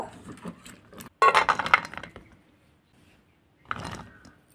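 Jackfruit seeds being rinsed in a pot of water, giving a loud cluster of clinks and clatters in the middle that fades out, then a shorter burst of rattling near the end.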